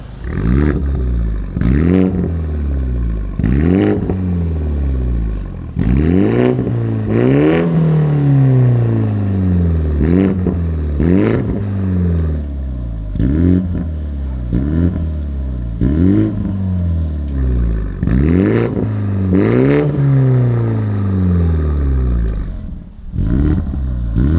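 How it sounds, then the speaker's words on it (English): A BMW 230i revved repeatedly through a Meisterschaft valved exhaust, loud and close, with sharp rising blips and falling roars about every two seconds and no speech. "I'm just gonna rev it for you guys, let me know what you think."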